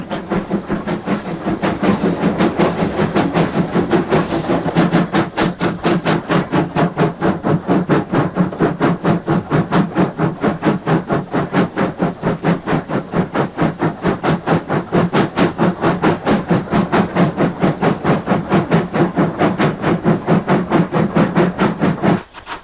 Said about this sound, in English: workers step aside at the sound of the approaching train